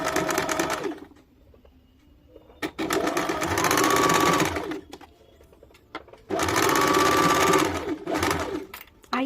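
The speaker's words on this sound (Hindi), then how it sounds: "उसे ढीला छोड़ के सिलाई करना है।" A sewing machine stitches lace onto palazzo pants in three loud, close runs of several seconds each, with brief quieter pauses between the bursts of rapid needle chatter.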